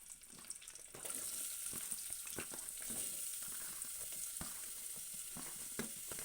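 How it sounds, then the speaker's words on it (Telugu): Chopped onion, ginger and garlic fry in a pan for a potato chicken masala gravy. A steady, fairly faint hiss of sizzling fills the whole stretch, with soft scrapes of stirring now and then and no talking. "ఇది కాస్త గోలేదాకా మనము వేపుకుందాము."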